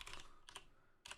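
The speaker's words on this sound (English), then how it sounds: "Didn't start typing Bartholomew." Someone types a character name on a computer keyboard while playing Lord of the Rings Online, three short bursts of rapid, close key clicks separated by brief pauses, quiet, with no talking.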